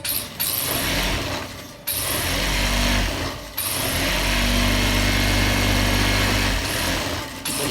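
An electric sewing machine double-stitches the seam of a men's pajama, running in fast whirring bursts with brief pauses between runs, close and clear with no talk.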